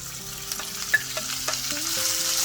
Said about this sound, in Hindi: We are going to cook the minced mutton nicely